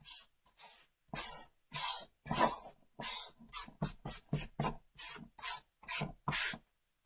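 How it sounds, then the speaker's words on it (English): A sanding block rubs back and forth across a wood surface in a steady series of close, raspy strokes with brief pauses between them, loud and alone. "my sanding block, and I'm just going to sand this"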